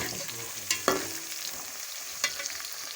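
Onions frying in a pan until browned, a steady soft sizzle with a few sharp clacks of a spoon stirring, close and moderately quiet, no voices.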